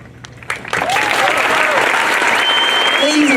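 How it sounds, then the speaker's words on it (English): Loud, sustained applause from an audience welcoming newly commissioned Marine Corps second lieutenants, breaking out after a few scattered claps and swelling into a steady, dense ovation that holds to the end, with some cheering voices mixed in. "Please join me in a round of applause."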